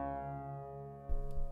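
Built-in synth sounds from the Chorda MIDI controller's speaker: a sustained, harmonically rich tone held steadily, with a low thump and rougher texture entering near the end.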